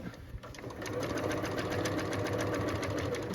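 A sewing machine stitches a denim jacket in one steady close run of rapid needle strokes, rising from a softer start to a constant hum.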